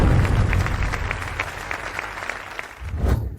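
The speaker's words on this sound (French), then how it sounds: "Accueillons sous vos applaudissements Sun Ziming, expert en génie électrique, monte sur scène recevoir son prix" Audience applause at an award ceremony as a prizewinner takes the stage, steady dense clapping from a hall crowd throughout, with a short lull near the end before it swells again.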